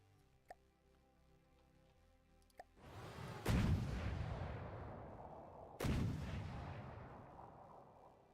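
A weapon fires in the video game From the Depths: two faint early pops, then two loud booming shots a couple of seconds apart, each trailing off into a long rumbling decay.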